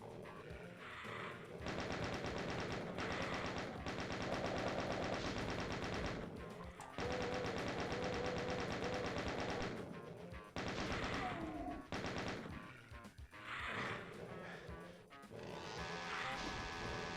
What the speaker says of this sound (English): let's put a few rockets into this